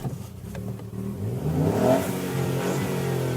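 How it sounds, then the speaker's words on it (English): A 2018 Ford Fiesta ST engine starts and revs, climbing from a low idle into a loud, rising rev with a warbling, fizzy note, then holding steady and close, with no talking. "To get an engine note that warbles and fizzes impatiently, with a few exhaust pops and crackles thrown in for good measure"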